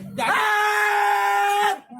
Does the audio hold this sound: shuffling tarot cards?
no